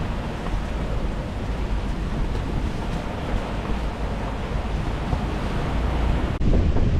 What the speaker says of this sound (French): Avec des mètres de houle et qui continuent à se creuser.